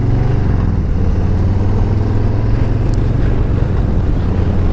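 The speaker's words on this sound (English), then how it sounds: "Nice breezy day." Steady, loud wind buffeting a microphone on a breezy, cool day while riding a Harley-Davidson Street Bob 114 motorcycle, with a low engine drone underneath throughout.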